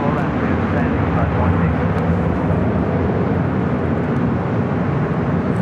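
Southwest Airlines Boeing 737-700 jet at LAX, a loud, steady broadband engine roar sustained throughout, with voices audible over it.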